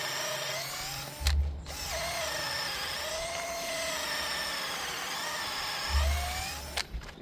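A power drill re-drills a hole, whining steadily and close for several seconds with a brief bump at the start and again near the end as the bit bites, with no talking.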